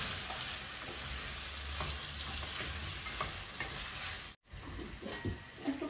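Tomatoes and spice powder fry in a pan for a fish curry and are stirred. The sizzle is steady and close, with scraping stirs throughout. A brief dropout near the end is followed by renewed frying and clatter.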